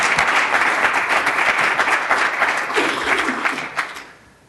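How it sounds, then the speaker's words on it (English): Audience applause from a small group, brisk clapping that holds steady for a few seconds and then tapers off and fades near the end. "Give her a round of applause."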